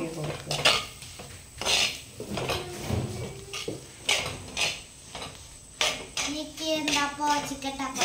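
A utensil stirring garlic paste and spice powder in a pan for chicken curry, heard as close scraping and clinking in irregular strokes with some faint background voices.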